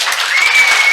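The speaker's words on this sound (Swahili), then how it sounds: "Simpigie Yesu makofi." Church congregation clapping during an Apostle Ndura Waruinge service at Bethel Church, a brief steady wash of many hands applauding together with no voices over it.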